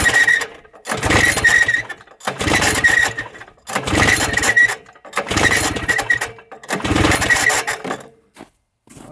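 Engine of a vintage Raider 34TT twin-track snowmobile cranking over with the throttle held open, five distinct bursts of rapid, chugging turnover separated by short pauses, close and fairly loud.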